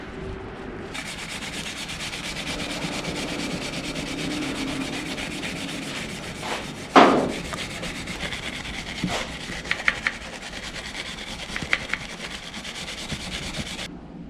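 A wire brush scrubs rusty corrosion from an old aluminum wheel, working along a crack-like groove and around the rivets. The scratchy rubbing runs steadily and close for about fourteen seconds, with one sharper scrape near the middle and a few brief clicks afterward.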